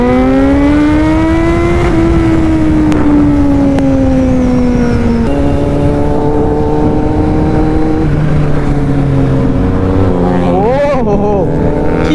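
A Kawasaki Z900 inline four-cylinder motorcycle engine drones loudly and continuously at close range, its pitch rising and falling as it cruises and shifts, over heavy wind rush.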